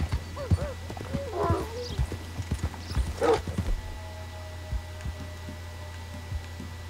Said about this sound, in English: Ride the stagecoach.